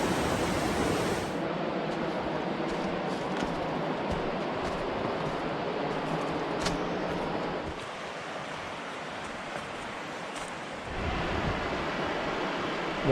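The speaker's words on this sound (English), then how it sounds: "The Whitewater River, downstream from the big falls that we saw earlier." Steady broadband rush of the Whitewater River flowing downstream of a large waterfall on a forest trail, a continuous nearby roar with faint wind, no talking.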